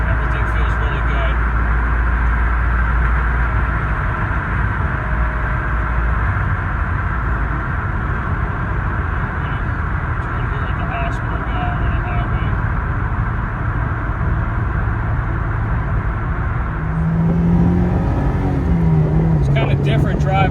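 A Honda S2000 with a newly replaced differential and axles cruises at about 60, giving a steady engine and road drone under someone talking throughout.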